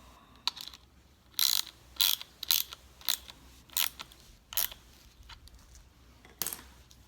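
A ratchet wrench tightens a nut onto a bolt with a 5/16-inch flat washer and lock washer, giving a series of quick, close clicking bursts at irregular intervals in a quiet room.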